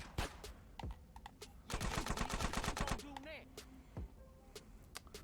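Rapid bursts of gunfire in GTA San Andreas Definitive Edition, a dense volley of repeated shots lasting over a second, preceded and followed by scattered single shots, with a voice talking over parts of it.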